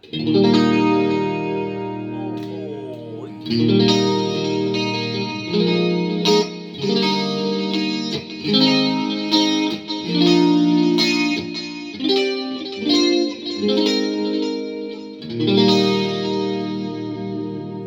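Fender Deluxe Stratocaster HSS electric guitar through a Mooer GE-200 with a clean, shimmering chorus effect plays strummed chords and ringing notes, loud and close, with no voices.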